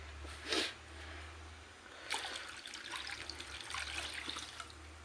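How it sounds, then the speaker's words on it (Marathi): Water pours into a cooking pan holding roasted garlic, tomato and onion, a soft steady splashing trickle that swells after a brief splash, fairly faint and close. "थोडं अजून पाणी ओतते."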